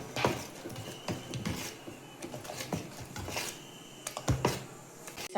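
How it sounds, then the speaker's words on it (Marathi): Idli batter with salt and soda whisked in a bowl, a run of quiet scraping and clinking strokes of utensil against the bowl, uneven in rhythm and close by. "आता बॅटर चांगलं फेटाळून घेऊया."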